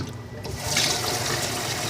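Hot water is poured in a steady, close rushing stream that swells slightly louder partway through and continues without a break.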